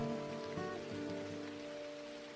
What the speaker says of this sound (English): the rain is falling on a hard surface that isn't wet already, the rain hits quite aggressively on the ground